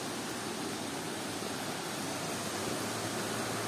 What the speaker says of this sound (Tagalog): May nakita kami magandang waterfall dito